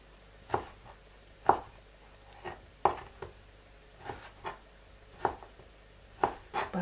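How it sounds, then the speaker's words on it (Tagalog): Knife cutting ham into long strips on a board, a series of crisp, separate chops at an uneven pace, close by with no voices. "Hiwain po natin itong ham ng pahaba din."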